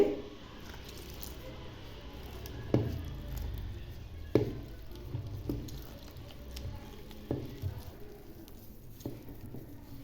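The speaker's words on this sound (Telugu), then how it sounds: "కొంచెం కొంచెంగా వాటర్ పోసుకుంటూ కలుపుకుంటూ ఉండాలి" Quiet wet squishing and slapping as a thick bajji batter of gram flour and water is worked by hand, with irregular soft pats and squelches.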